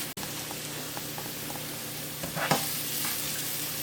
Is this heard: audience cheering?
no